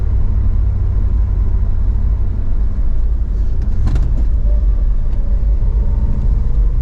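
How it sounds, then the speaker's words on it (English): 1962 Plymouth Belvedere with a big block 361 engine and 3-speed manual transmission, driving with a steady loud low engine rumble and road noise throughout. "This big block 361's definitely got a lot of pull, especially when it's coupled to this 3-speed manual transmission."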